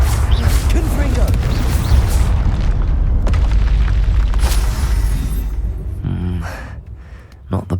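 Confringo blasting spell explosions in the video game Hogwarts Legacy, loud booming blasts with crackling bursts over a roaring rumble that fades toward the end.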